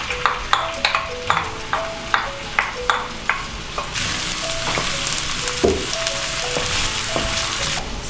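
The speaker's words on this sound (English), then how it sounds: "So let's get started with sauteing these onions." Onions sauté in about a quarter cup of oil in a pot for baingan bharta, with rhythmic stirring scrapes at first, then a dense, steady sizzle that swells and continues up close.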